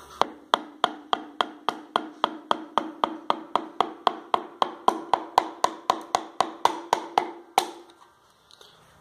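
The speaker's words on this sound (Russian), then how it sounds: "Дальше рукоятью молотка будем забивать." Sharp, regular taps of a hammer handle driving piston rings into a Honda CR-V RD1 engine, about three per second, steady and close, ending with a few softer knocks.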